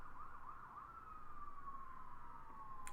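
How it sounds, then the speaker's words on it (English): A police siren wails in one long, steady tone that slowly glides lower, sounding somewhat distant over a faint background hiss. "That police siren was right on time,"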